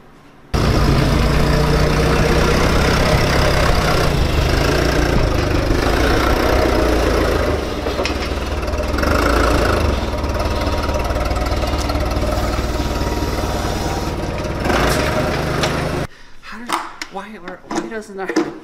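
A nitro Hemi engine fitted in a Dodge Durango runs loud and close with a rough, rumbling idle that dips slightly midway, then cuts off abruptly, leaving a quieter stretch at the end.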